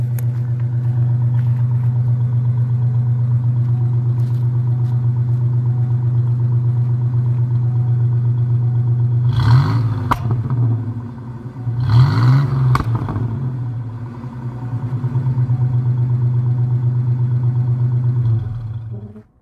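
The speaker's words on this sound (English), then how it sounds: "now it's backfiring again" A 1986 Ford Mustang idling with a loud, steady low drone, then two sharp revs with crackling backfires midway before it settles back to idle.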